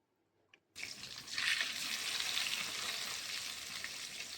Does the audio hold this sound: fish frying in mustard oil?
yes